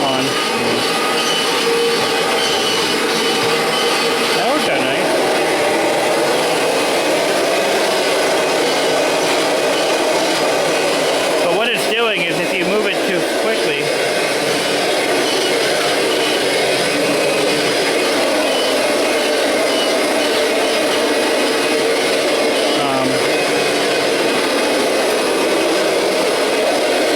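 Kirby Generation 5 vacuum with its drive unit running on bare floor, a loud, steady, dense motor roar throughout with a brief surge near the middle and faint voice underneath.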